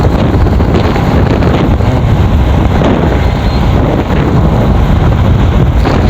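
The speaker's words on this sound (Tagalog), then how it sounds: "Malakas talaga guys yung hangin." Strong wind roars into the microphone at Sitio Poctol, Cataingan, Masbate, without a break, a loud continuous low buffeting with no voices.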